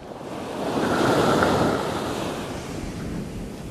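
Atlantic waves break on the coast of northwest Spain, a broad rushing surge swelling and then settling into a steady wash, heard up close with some wind buffeting the microphone.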